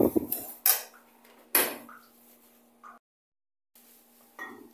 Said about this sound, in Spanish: Y ya por último, voy a mezclar todos los ingredientes.